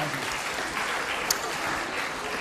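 Children's audience at a live kids' music disco show applauding, a dense, steady wash of many hands clapping throughout, fairly loud and without talk.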